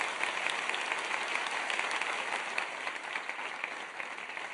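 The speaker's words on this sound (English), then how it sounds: "A big round of applause for Dr." An audience at the World HRD Congress 2019 applauds as Dr. Rao is called to the stage: steady, dense clapping from a large hall crowd that stays loud and even throughout, with no voices over it.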